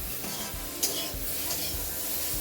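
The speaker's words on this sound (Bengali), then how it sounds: "ভেন্ডি ভাজা হচ্ছে।" Okra frying in a home kitchen pan, giving a steady close sizzle with stirring scrapes and one sharp utensil clink near the start.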